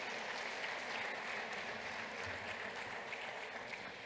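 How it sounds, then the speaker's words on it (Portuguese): Conference audience claps in a steady, even wash of applause, moderately distant and fairly quiet, with no voices over it. "uma salva de palmas também"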